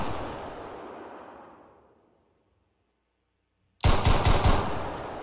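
A long fading burst of automatic gunfire, then silence, then a sudden loud rapid volley of shots from a game.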